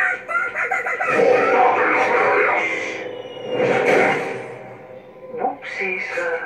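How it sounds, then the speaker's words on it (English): A chicken clucks and squawks in the Ratchet & Clank Future: A Crack in Time game on PlayStation 3, several bursts heard close up, mixed with game sound and character voices. "Chicken?"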